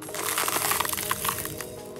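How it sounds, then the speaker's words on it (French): A dense burst of sharp crackling and splintering, like ice being cracked, lasting about two seconds at moderate loudness. "j'ai utilisé le bruit de la glace qu'on craque."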